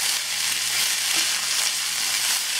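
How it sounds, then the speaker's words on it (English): Onions and garlic sizzle and fry steadily in a pan over medium-high heat while being stirred, a dense, even hiss that stays loud and close throughout with no voices. "we'll mix this for about 3 to 5 minutes so it's cooked all the way through"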